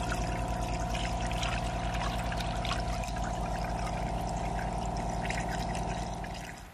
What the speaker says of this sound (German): Wir haben das Kühlwasser mittlerweile umgefüllt und füllen das jetzt